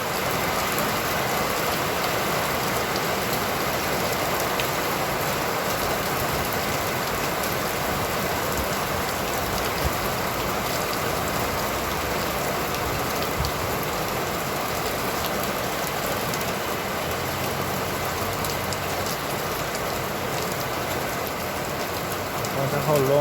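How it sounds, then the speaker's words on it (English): Rain pours down on a busy street on a weekday afternoon, a dense, steady hiss of drops that stays loud and unbroken throughout. "The rain is starting to come down a little heavier again."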